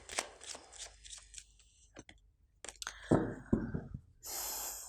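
Tarot cards are shuffled by hand in quick riffling and slapping bursts, close and crisp, with soft breathing and handling noises between them.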